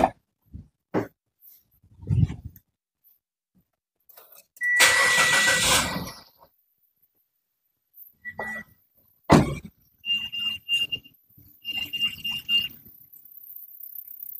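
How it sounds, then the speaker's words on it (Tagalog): A car engine starts with a loud cranking burst lasting over a second, followed by scattered short mechanical clicks and tonal beeps in otherwise quiet surroundings. "Alright, so nakabukas na yung engine natin."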